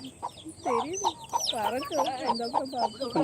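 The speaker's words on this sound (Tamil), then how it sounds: "கோழி காட்டுங்க" Chickens cluck nearby in a busy run of short, rising and falling calls, close and fairly loud, with some voices faintly underneath.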